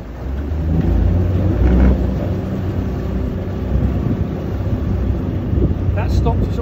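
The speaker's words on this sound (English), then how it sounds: "The noise is the blades moving, that's what that vibration was." A sailboat's Bruntons Autoprop feathering propeller vibrates as its blades move during a hard stop, a low steady rumble and hum under the hull, continuous and fairly loud throughout.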